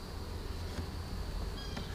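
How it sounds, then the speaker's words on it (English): Honeybees hum in an open hive during a spring inspection, a steady low drone that holds throughout, close and continuous, with no voices. "I see a lot of bees down there."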